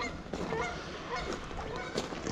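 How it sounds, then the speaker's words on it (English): Geese honk in a wintry outdoor setting by a creek in Arkansas, a continuous chorus of many overlapping calls from a flock, moderately distant and fairly faint against a broad background wash. "Geese."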